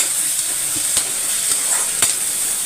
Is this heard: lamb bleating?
no